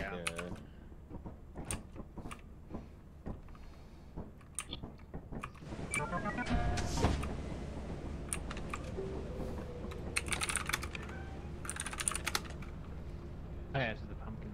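Typing on a computer keyboard while playing Lethal Company, a steady patter of close key clicks with occasional heavier clatters, mixed with faint game noise.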